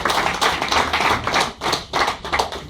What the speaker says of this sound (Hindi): प्रताप गवस के लिए जोरदार ताली